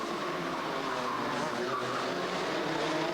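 Race cars roar together in an Elf Masters 2000 semi-final, a steady dense engine drone with occasional tyre squeal, loud and continuous throughout.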